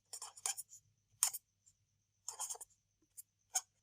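Pen scratching on paper during a math lesson, in short separate bursts of strokes with pauses between, close and fairly quiet, with no talking.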